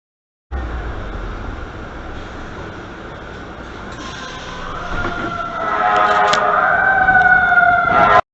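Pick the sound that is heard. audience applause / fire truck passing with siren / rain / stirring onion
fire truck passing with siren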